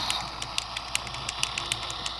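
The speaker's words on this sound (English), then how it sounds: "it will keep an engine running noise going" An electronic engine-running sound effect from a Transformers Universe Classics Ultra Class Onslaught toy plays as a steady rumbling loop with regular bright rattling clicks, near and moderately loud.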